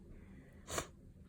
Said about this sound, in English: She says as she sniffles.